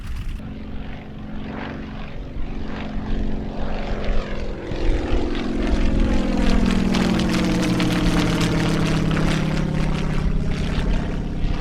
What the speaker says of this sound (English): I have just now heard a couple German planes fly overhead.